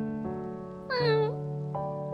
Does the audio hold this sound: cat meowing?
yes